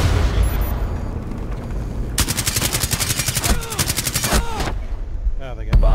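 Rapid automatic gunfire from a Rainbow Six Siege bomb match on the Yacht map, a long loud burst of shots in quick succession with scattered single shots, close and sharp over game noise and occasional voice chatter.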